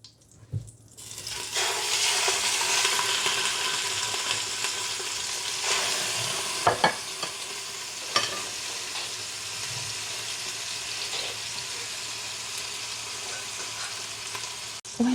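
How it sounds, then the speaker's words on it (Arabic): Meat browning in oil with a little ghee in a pan for an Algerian mderbel-style dish, a loud steady sizzle that holds for the whole stretch, with a few sharp clicks of utensils partway through. "باش نحطو اللحم تاعنا يتحمر على زوج جوايه"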